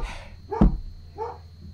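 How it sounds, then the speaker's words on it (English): A dog gives one sharp, loud bark followed by a softer second yelp a moment later, heard indoors against a faint steady hum with no one talking. "And my dog is barking."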